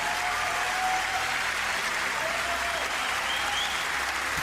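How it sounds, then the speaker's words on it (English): A crowd claps in sustained, even applause, a dense wash of hand claps heard from a distance with no voices over it. "Average person applauds."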